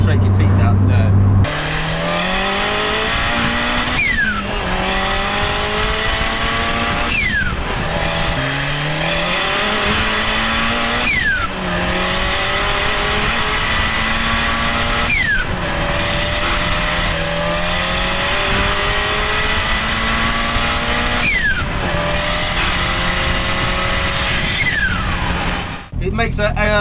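Toyota Starlet EP82 GT turbo on a bumpy road, engine loud and close as it revs up repeatedly, each climb cut off by a sharp hissing compressor surge blow-off, with people talking over the engine.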